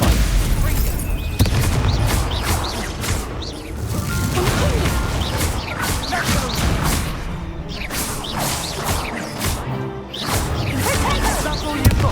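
Booming spell blasts and swooshing impacts from combat in Hogwarts Legacy, dense and loud throughout with crashes and whooshes layered together, a voice shouting between them.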